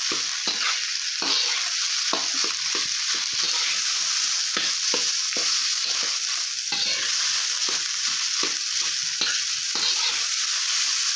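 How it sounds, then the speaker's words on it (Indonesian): Cooked white rice being stirred into frying nasi goreng in a pan: steady sizzling throughout, punctuated by repeated scraping and tapping strokes of the utensil in an irregular rhythm, close and fairly loud, with no talk. "kita masukkan nasi putihnya teman-teman ya. Lalu kita aduk-aduk atau kita campurkan seperti ini"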